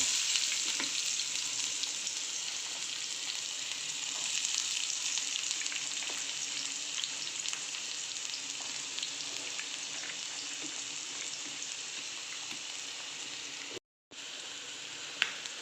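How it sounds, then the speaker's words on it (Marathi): Onions fry in oil in a pan for spicy misal, giving a steady, even close sizzle with scattered small crackles and a brief silent gap near the end. "त्याच्यामध्ये आता आपण कांदा चांगला फ्राय करून घेऊ"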